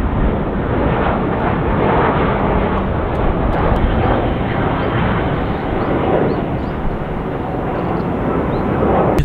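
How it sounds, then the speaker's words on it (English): An airplane comes in to land, heard as a loud, steady roar from an exposed rooftop on an abandoned resort hotel, with gusty wind buffeting the microphone throughout. "The plane! You can see it landing from here."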